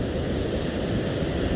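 Ocean surf at a beach roars steadily, a dense continuous wash of breaking water mixed with wind rumble, loud and unbroken with no voices.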